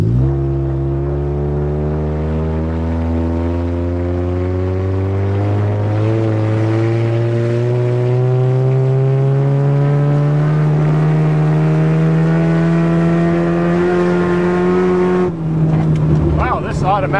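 An automatic Honda drives fast over bumpy farm ground, its engine a loud, close, steadily rising whine through the gears before an abrupt drop and rattling jolts near the end.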